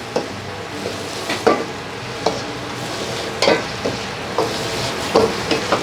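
Mixed vegetables stir-fry in a pan with a little added water for vegan drunken noodles, giving a steady close hiss and sizzle broken by a series of sharp, irregular scraping strokes as a utensil stirs.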